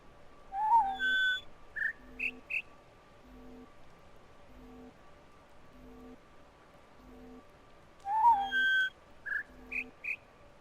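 A deeper bird calls in a video game, hooting phrases of several whistled notes repeated twice, over a soft, steady pulsing ambient rhythm and low hum, faint and with no talking.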